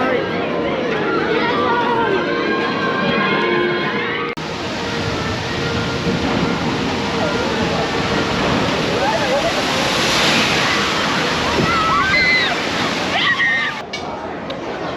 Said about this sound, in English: Right, the Jurassic Park water ride.